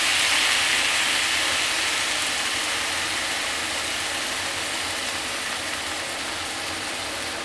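Noodles and vegetables stir-fried in a pan sizzle steadily as soy sauce goes in, a dense, even hiss that stays loud and close, fading only slightly over several seconds.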